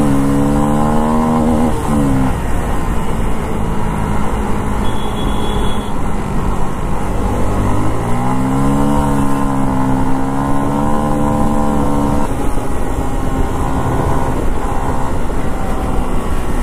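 Motorcycle engine revved hard toward full RPM on a Delhi road, loud sustained wail with repeated pitch climbs and drops, close and alone without talk.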